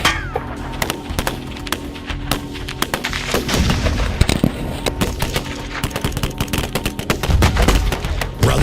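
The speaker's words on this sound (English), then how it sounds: "you cannot hide behind an I-beam when there's a 50 cal present" A .50 caliber rifle fires in a loud, dense barrage of heavy shots and rapid bursts that overlap into a near-continuous roar of booming reports.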